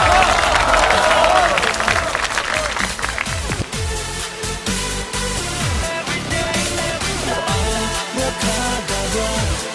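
A studio audience at a birthday celebration variety show bursts into sustained, loud applause with crowd noise and cheering throughout, clapping steady and dense from start to finish.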